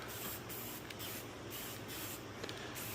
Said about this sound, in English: Just regular rattle can spray. I'm going to spray all 3 of these right here.